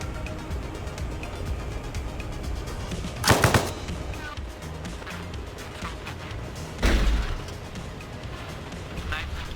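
Rifle fire with tracers in the Arma Reforger video game, two sharp bursts of shots a few seconds apart, mid-distance under steady ambient battlefield noise and a talking voice.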